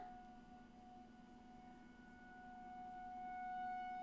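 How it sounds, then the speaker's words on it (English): Distant tornado warning sirens drone in a steady, sustained wail, faint and far off, slowly swelling slightly louder toward the end. "I think those are the tornado sirens."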